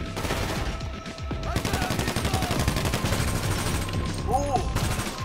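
Rapid automatic gunfire in GTA 5 Online, dense bursts of shots rattling steadily throughout, loud and close, with a faint whistling tone near the end.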